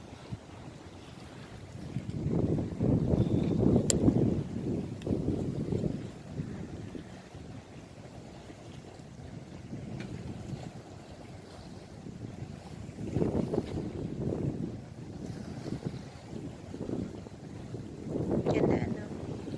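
Gusty wind buffeting the microphone in rising and falling surges at a ferry port, with a faint wash of water in the background.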